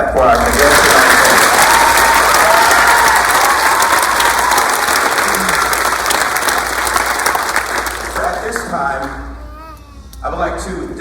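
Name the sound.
applause for graduating cadets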